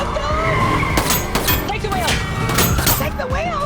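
A movie car chase roars with engines and squealing, skidding tires, dense and loud, layered with crashes and mixed under voices and score.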